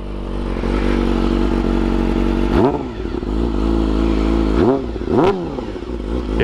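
A warmed-up 2019 Yamaha R6 600cc sport bike running close by, a loud steady idle broken by three sharp throttle blips that rev up and fall back.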